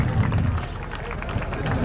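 Applause from an audience honouring guests at a district foundation day ceremony at Gandhi Maidan in Siwan, a steady patter of many hands clapping at middle distance beneath a noisy, echoing public-address backdrop.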